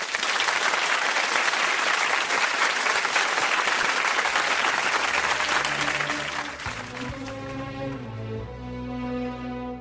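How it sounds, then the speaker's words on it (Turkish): Studio audience applause on a Turkish televised music show, a loud, sustained wave of clapping that slowly fades while instrumental music rises underneath and carries on alone toward the end. "O güzel alkışlarınız"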